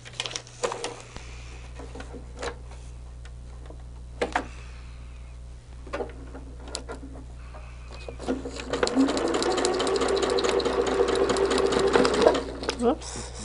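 Sewing machine stitching pinned quilt fabric, running in one close, steady burst for several seconds near the end after quieter handling sounds, with faint talk earlier.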